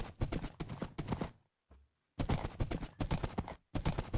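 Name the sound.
horse in a Minecraft-like video game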